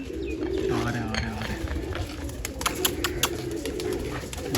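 Pigeons coo softly in a rooftop setting, with low murmuring calls repeating through the clip amid faint chirps and light background noise, close by and moderately loud.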